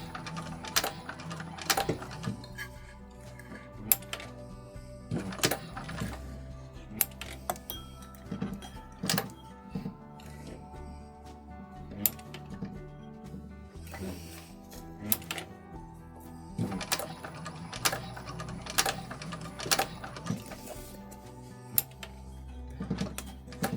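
A sewing machine stitches a seam on an EVA foam bag, running in short bursts of rapid mechanical clatter separated by brief pauses, close and fairly loud with no speech.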